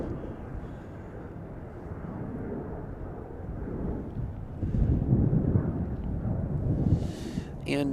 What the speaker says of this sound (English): That was American Airlines Flight 2499 off to DFW.